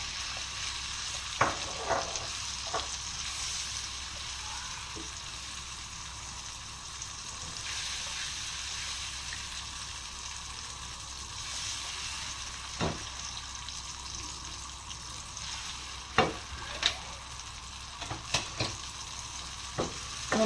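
Onion paste sizzling in oil for an egg curry, a low continuous frying hiss with occasional scrapes and clinks of the spoon stirring, fairly quiet and close.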